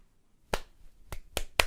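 Four sharp, close hand claps spaced unevenly, each a short crisp burst with quiet gaps between.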